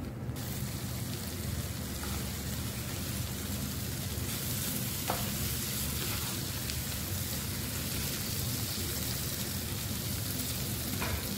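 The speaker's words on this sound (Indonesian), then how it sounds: "Kita masak ini sekitar 1 menit atau 2 menit biar semuanya tercampur merata." Sambal and other ingredients cook in a pan with a loud, dense, continuous sizzle, steady throughout with faint scraping from stirring. No voices are heard.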